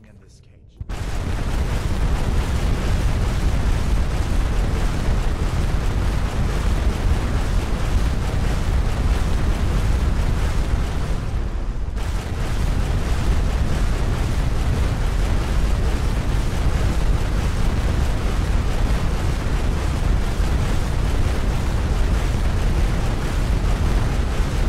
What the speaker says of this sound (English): Blast yourself or whoever is wearing your rocket boots at the target location